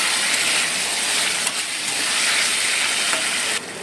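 Tomato and spice masala sautéing for an aar fish curry, a steady close sizzle and hiss of frying throughout with faint stirring touches and no talking.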